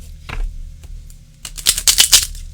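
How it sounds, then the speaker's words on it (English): Large, chunky Minchiate tarot deck being riffle-shuffled by hand, a single soft tap followed by a rapid crisp burst of fluttering card clicks, close and fairly loud. "You split it in half, you shuffle each half, and then you go like this."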